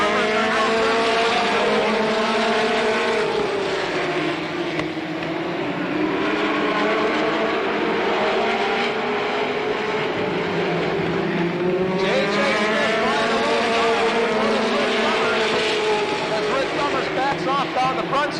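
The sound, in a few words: race cars on a track at the Slinger Nationals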